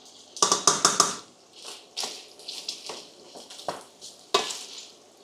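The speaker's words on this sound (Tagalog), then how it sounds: "Igisa na yung bawang natin." Garlic and onion hit a hot pan with bursts of sizzling, followed by scraping stirring and clattering against the pan, irregular and close with short pauses between.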